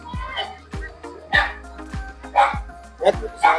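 Several sharp, high-pitched chihuahua barks in a quick irregular series, fairly close, over a low background hum.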